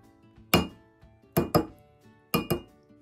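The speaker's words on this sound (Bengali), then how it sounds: "এবার আমি ছাড়িয়ে দেখি ডিমটা আদৌ হয়েছে কিনা।" A microwave-boiled egg is cracked against a hard surface, giving three pairs of crisp, close-up tapping clicks spaced about a second apart in an otherwise quiet room.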